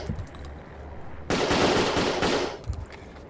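Automatic gunfire aimed at helicopter gunships in Battlefield Vietnam: one loud, dense burst of rapid shots lasting about a second, with quieter battlefield ambience before and after.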